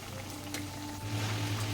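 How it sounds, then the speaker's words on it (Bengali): Nimki deep-frying in oil on a low flame, a faint steady bubbling sizzle that grows slightly fuller midway, with no talk. "এবার এগুলোকে একটু উল্টো পাল্টে ভেজে নেব।"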